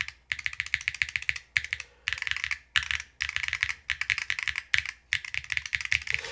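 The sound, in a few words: typing on mechanical keyboard with PBT keycaps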